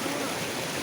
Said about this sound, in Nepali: हाम्रो हिमालबाट बगेर आएको पानी हो यो।